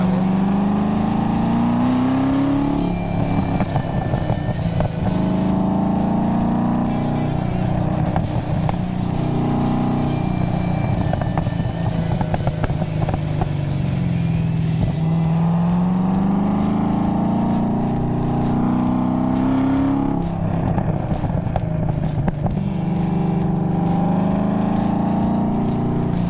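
An LS7 V8-swapped Mazda RX7 FD3S, a light car, accelerates hard, its loud close-up engine roar climbing through revs with repeated gear changes, dips and rises again, with no talk over it.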